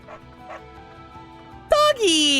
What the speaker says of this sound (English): I heard dog.